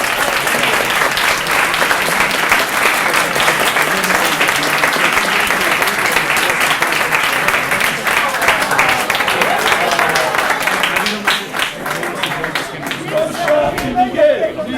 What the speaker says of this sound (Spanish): despidamos a nuestros invitados con un afectuoso aplauso